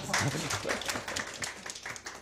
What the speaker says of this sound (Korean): 박수 해주십시오. 박수.